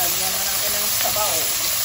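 Broth hitting a hot pan, a dense steady sizzle and hiss lasting the whole moment, close and fairly loud.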